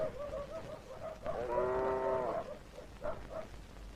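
A cow gives one drawn-out moo lasting about a second, fairly close and clear, with quieter farmyard sounds before and after.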